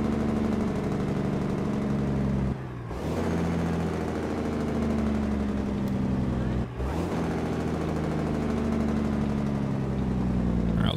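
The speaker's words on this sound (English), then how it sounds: "We've had enough of the engine sound for today." A Kenworth W900 truck idles in American Truck Simulator while hauling cattle, a loud, steady low diesel rumble with two brief dips in level before it settles back into the same even drone.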